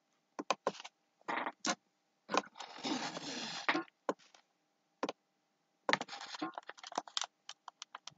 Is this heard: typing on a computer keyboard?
yes